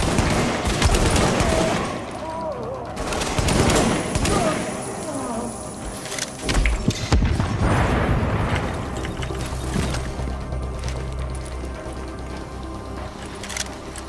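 Gunfire in the beta of the shooter The Division: bursts of loud shots, including a dense volley around the middle, mixed with in-game noise and chatter, close and forceful.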